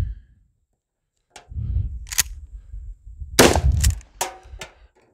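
Several sharp, loud shots from a gun firing slugs ring out in a quiet setting, spaced irregularly over a few seconds, each with a short decaying tail.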